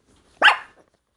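A single sharp bark from a pet dog indoors, loud and close, standing alone in otherwise quiet surroundings.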